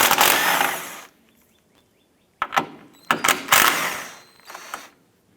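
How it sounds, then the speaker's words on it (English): A 13mm socket wrench works loose the strut tower brace bolts on an Acura TL: bursts of metallic clicking and ratcheting, with a short burst at the start and a cluster of clanks and rattles later, separated by near-silence. "I'm going to use a 13mm socket."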